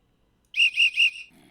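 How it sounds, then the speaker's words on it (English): Whistle blown to call tamed wolves back in the Minecraft Sophisticated Wolves mod, three quick, loud, high-pitched pulses in a rhythmic run, heard alone. "we'll blow the whistle and you can watch them all come back in"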